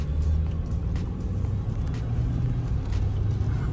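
Truck driving on a road during a dealer's trade-in test drive, with a steady low engine rumble and road drone heard from inside the cab, close and continuous without pauses.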